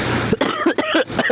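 A close, loud burst of coughing, three or four harsh hacks in quick succession.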